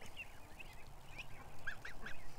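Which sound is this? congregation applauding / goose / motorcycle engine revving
goose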